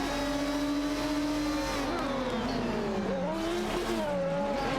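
Racing cars in a racing video game, an Aston Martin DBR9 and a Ferrari 575 GTC, roar close together with sustained engine drones that rise and fall in pitch as they accelerate and shift, loud and without talk.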